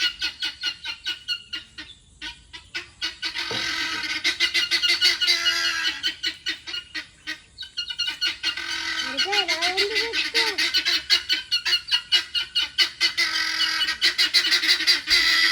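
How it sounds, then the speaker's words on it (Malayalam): Purple guinea fowl calling on a poultry farm, a rapid repeated harsh chattering series that pauses briefly and starts again, loud and close, with a short honk-like cry midway. "സൗണ്ട് കേട്ടില്ലേ ആ കൂട്ടിൽ കയറാൻ തന്നെ വിളിക്കുകയാണ്"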